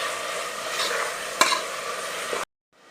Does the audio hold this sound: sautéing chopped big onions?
yes